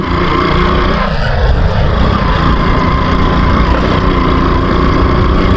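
Kawasaki motorcycle engine running steadily while riding on a village road, a constant loud drone with continuous road and wind noise and no break throughout.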